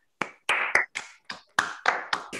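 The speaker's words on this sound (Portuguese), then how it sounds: "a gente dar uma salva de palmas ao professor Cid pelo excelente seminário" Sparse, separate claps from a small online seminar audience clapping through open microphones, about nine distinct sharp hand claps in an uneven rhythm, close and clear with silence between them.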